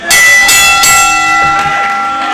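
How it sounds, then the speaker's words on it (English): A wrestling ring bell clangs at the start of a match at a Boys and Girls Club event in Kingsville, Texas: a few loud metallic strikes in quick succession, each ringing out with a long sustained tone. "And the bell has rung and the first match here tonight is kicking off."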